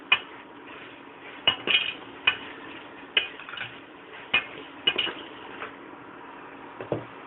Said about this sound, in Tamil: அப்படியே லோ ஃப்ளேமில் வச்சு வதக்கிட்டே இருங்க.